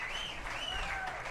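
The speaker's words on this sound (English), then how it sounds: "And the crowd giving her a round of applause here in Salt Lake City at the Sports Mall." Crowd applause at a women's pro handball championship final in Salt Lake City's Sports Mall, a steady wash of clapping held at an even level under faint background voices.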